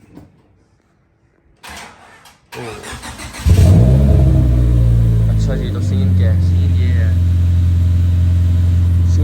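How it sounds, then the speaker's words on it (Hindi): A car engine cranks and catches, then settles into a loud, steady idle that carries on to the end, with someone talking over the start and the running engine. "स्टार्ट कर कार।"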